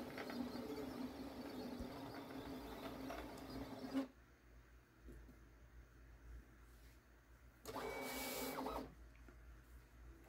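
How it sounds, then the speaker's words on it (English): Sticker cutting machine moving its blade back into position for a die cut, a mechanical whirring motor run that stops abruptly, followed by quiet and then a second short buzzing motor burst. "Now it's going to go back and readjust the blade for the second cut, which is going to be the red cut lines or the die cut."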